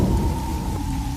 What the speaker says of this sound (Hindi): तेज हवाएं और मूसलाधार बारिश ने हर किसी को घरों में बंद कर रखा था।